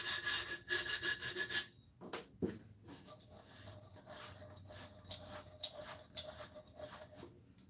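Close, raspy back-and-forth scraping of a sandpaper block rubbed by hand over a tumbler, starting in quick steady strokes and then breaking into irregular, spaced rubs; no talk.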